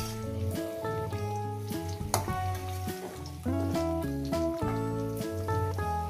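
Pumpkin shoot greens and potato fry in a pan for aloo posto. A soft, continuous sizzle runs under prominent tonal music, with a brief clatter near the middle.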